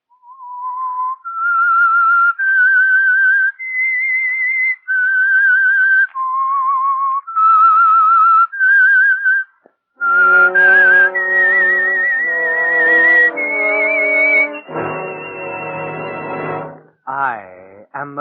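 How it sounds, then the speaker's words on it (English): Signature whistle theme of the radio show The Whistler: a lone, clear whistled melody of held notes, loud and close, followed by a swelling orchestral passage that ends on a sweeping flourish. "That whistle is your signal for the Signal Oil Program"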